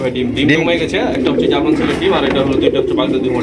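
Black Baghdadi homer pigeons coo softly in a loft, with low, throaty calls running beneath someone talking close by.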